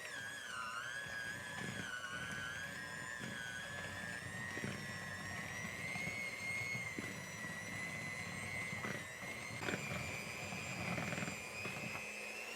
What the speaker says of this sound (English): gonna take our mixer. Basically, I'm going to beat this until it's smooth.